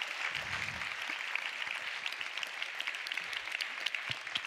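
Audience at an international dubbing awards ceremony in Italy applauds, a continuous wash of many hands clapping with scattered sharper claps standing out, steady in level and free of talk.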